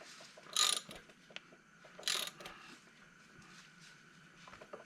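A ratchet tightens the blade bolt on a lawnmower, giving two short bursts of quick clicking with faint mechanical ticks between them, quiet and close.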